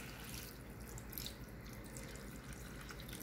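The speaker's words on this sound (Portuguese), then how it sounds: "Colocando a água." Water poured into a pot of browned chicken pieces cooking on a stove, a steady broad splashing and gurgling pour that runs continuously and fairly close throughout, with no talking.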